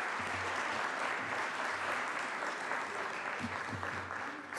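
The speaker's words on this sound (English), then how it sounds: "let's give a round of applause for our great members of the LAPD" Steady, sustained applause from a room full of people in a legislative floor session, dense clapping that holds at an even level throughout.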